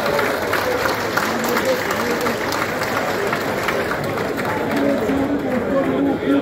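An audience at a unit anniversary commemoration gives sustained, even applause for athletes, with a dense patter of clapping and some voices murmuring beneath it throughout.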